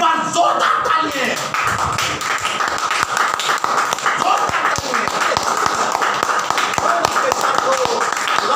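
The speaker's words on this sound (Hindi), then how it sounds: "इस टेक्नोलॉजी के लिए एक बार जोरदार तालियां" A church congregation applauds, a dense and loud sustained clapping that fills the room from start to finish.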